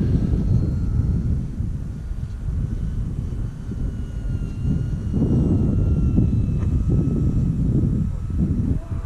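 An airplane landing in a flight video game, its engine drone a steady, loud low rumble with wind-like roar throughout and no talk.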